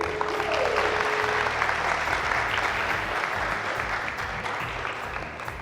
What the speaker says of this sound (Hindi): इस ट्रांसमिशन को जो समझते हैं कि बेहतर अक़दाम है तो वो बहुत सारी तालियां बजा दे